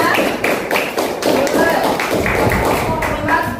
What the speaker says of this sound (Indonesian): kita berikan tepuk tangan kepada kita